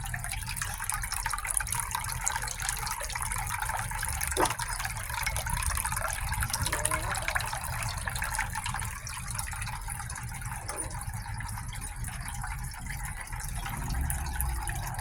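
A garden water fountain runs with a steady trickle and splash. A faint continuous liquid patter, heard outdoors with a few soft clicks and no talk.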